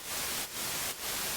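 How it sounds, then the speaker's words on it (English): Harsh, gritty Geiger-style noise from a synthesizer noise oscillator, a loud continuous hiss with two brief dips where it cuts out momentarily, heard alone. "there's this other noise called Geiger"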